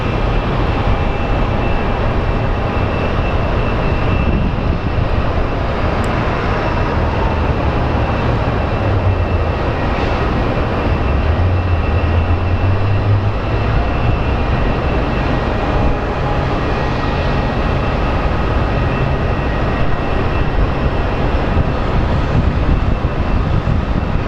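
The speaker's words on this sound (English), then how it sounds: "up next we do have American Airlines 710 coming in from Seattle" An American Airlines jet arriving from Seattle at Phoenix Sky Harbor International Airport gives a steady, loud engine roar with broadband rumble that holds constant throughout, with no voices.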